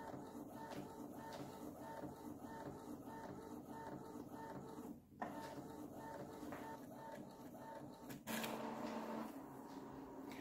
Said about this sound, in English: let's move on to printing the best quality